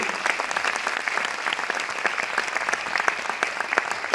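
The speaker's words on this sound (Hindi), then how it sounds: "एक बार जोरदार तालियां हो जाए वेस्टीज के लिए।" Sustained, dense audience applause at a business seminar, loud and steady with many overlapping claps, a few sharper claps standing out near the front.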